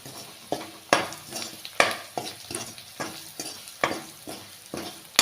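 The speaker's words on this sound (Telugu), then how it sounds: "ఇలా నీట్గా కలుపుకొని మంచిగా దగ్గరికి ఫ్రై చేసుకోవాలి." Potatoes with turmeric, chili powder and salt are stirred and fried in a pan for aloo fry, about a dozen regular scraping strokes of a spoon over a soft sizzle, close and alone.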